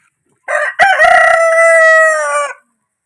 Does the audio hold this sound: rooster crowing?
yes